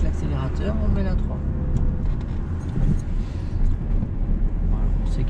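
A car engine in a driving-school lesson hums steadily and rises as it speeds up, heard from inside with road rumble throughout and a person talking over it.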